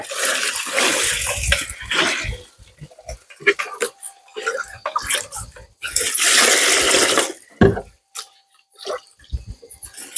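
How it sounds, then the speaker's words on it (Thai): Crabs are rinsed in clean water while making pickled crab, with splashing, pouring and sloshing in bursts, clattering container knocks between them, and people talking over the washing. "ล้างด้วยน้ำสะอาด"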